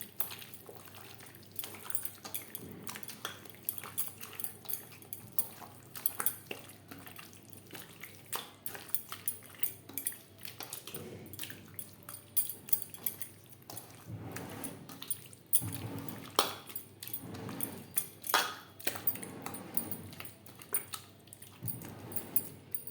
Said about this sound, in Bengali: মশলার সব উপকরণ দিয়ে চিকেন বেশ ভালো করে মেখে নিয়েছি